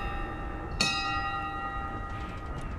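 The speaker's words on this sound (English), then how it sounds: "Can I ring the bell?" A large bell struck once in Dishonored, a sharp metallic clang ringing out with a bright decaying tone over a low steady ambient drone, with a faint second chime near the end.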